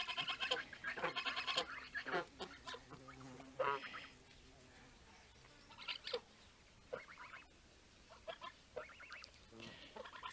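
Geese and ducks honk and quack in irregular bursts, with several loud calls close by and quieter gaps between them.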